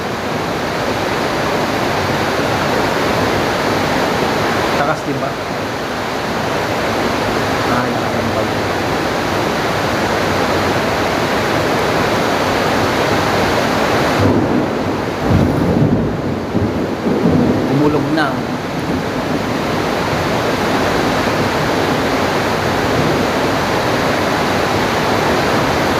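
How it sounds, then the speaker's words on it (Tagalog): Heavy rain pours down in a loud, continuous roar that hardly changes over the whole stretch, with a few brief lulls. "Naririnig yun, no? Lakas ang ulan."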